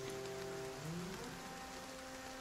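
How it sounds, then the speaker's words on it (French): Steady rain patters over the battlefield in Battle Brothers, a soft continuous hiss of drops alongside faint tonal game music that shifts partway through. "Il pleut en plus."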